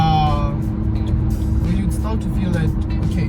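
A 2024 Suzuki Grand Vitara's 1.5 litre naturally aspirated engine straining at highway speed, a steady loud drone with road and wind noise throughout, while a person talks over it.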